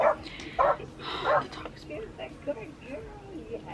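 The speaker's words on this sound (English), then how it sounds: "The dog is barking." A small dog barks and yips in quick bursts, close by, with a person talking faintly underneath.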